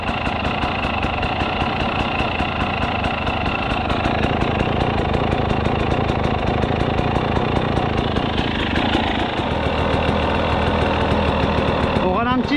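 A Husqvarna 300 TEi two-stroke dirt bike fitted with a remapped ECU idles close by, a rapid, steady, buzzing putter that runs continuously and loudly throughout, with a brief revving change near the end.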